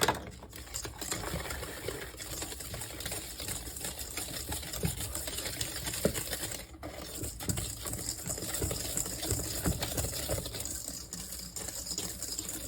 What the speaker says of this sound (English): Then we're going to whisk in our 1/2 cup, a ½ cup of flour.